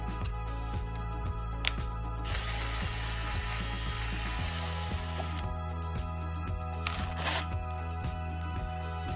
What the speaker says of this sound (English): now we're going to drill out the holes. We're just going to use a 4mm drill bit.